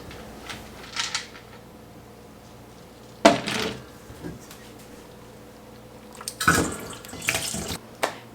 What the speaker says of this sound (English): I've gone ahead and rinsed off the cucumber and onion mixture for the bread and butter pickles